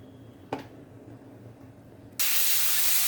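Stuffed bottle gourd with paneer filling goes into hot oil in a pan. A soft knock in a quiet kitchen comes first, then a sudden, loud, steady sizzling hiss that keeps going.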